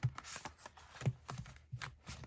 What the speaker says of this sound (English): Let's try that shuffle again.